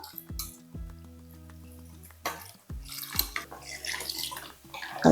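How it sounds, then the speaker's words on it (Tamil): Water poured into a metal cooking pot for an intestine (kudal) curry: several ringing metallic clinks of utensil on pot, then a splashy pouring stream, close up, with a voice talking over it. "தேவையான அளவுக்கு தண்ணியும் ஊற்றிக்கலாம்"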